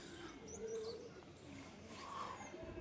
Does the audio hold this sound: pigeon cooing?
yes